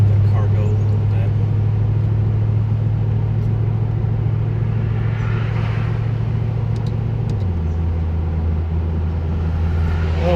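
A 2007 Mercedes-AMG SL55 roars under full throttle, heard from inside the car as a loud, deep, steady engine rumble that shifts lower in pitch near the end.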